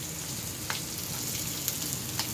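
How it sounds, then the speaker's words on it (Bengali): Chicken pieces and vegetables with garlic and onion frying in a small amount of oil, a steady soft sizzle with occasional faint pops and stirring taps, no voices. "এবার এগুলো ভালো করে একটু ভেজে নেব"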